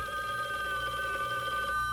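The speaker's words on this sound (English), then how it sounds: "When the phone rings and you're not there," A telephone rings in a 1970s radio advertisement on WWDC, Washington, DC, its bright electronic warble sounding steadily and loudly on its own for a couple of seconds.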